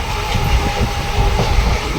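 A passenger train on the way to Tirupati rolls along the tracks with a loud, steady rumble and a clickety-clack rhythm from the wheels, heard up close.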